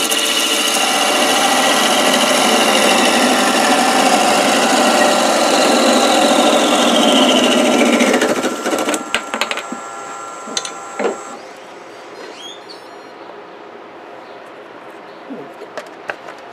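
A wood lathe hums loudly as a tool parts off a spinning, sanding-sealed wood piece, then the cutting noise drops away, leaving quieter clicks and knocks.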